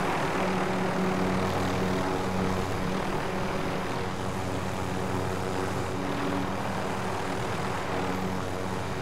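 Helicopter in the video game Call of Duty: Modern Warfare, a loud, steady engine roar with a humming rotor drone that stays constant and close throughout, with no voices.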